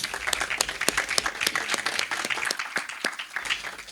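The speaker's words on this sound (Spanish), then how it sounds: "Un aplauso para recibirlos." Audience at a film school master class claps to welcome the guests, a fairly close, lively patter of individual hand claps that keeps going for several seconds.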